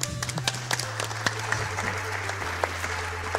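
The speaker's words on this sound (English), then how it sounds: "Please don't clap for that." A short burst of game applause from the video game StarTropics, crisp claps over a low steady electronic tone that steps down in pitch.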